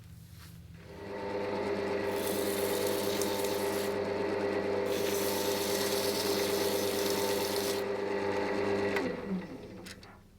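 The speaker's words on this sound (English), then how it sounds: "the next thing I'm going to do is give it a sand and a polish" A lathe spins a turned piece made of rubber bands while it is sanded and polished, a steady whirring hum and abrasive hiss rising after a second, holding evenly, then winding down near the end.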